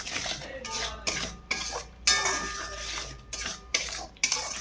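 Mutton curry being fried and stirred in a pot, a metal spoon scraping and knocking against the pot in repeated strokes close by, with a steady sizzle underneath and no talking.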